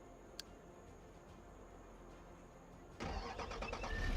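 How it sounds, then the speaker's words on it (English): A truck engine in Farming Simulator cranks and catches partway through, then settles into a loud, steady mid-pitched idle with faint ticking, after near silence broken by one brief tick. "Of course, gotta start the engine."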